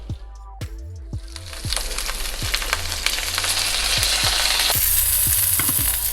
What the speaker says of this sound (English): the potatoes are initially stir fried, as you can see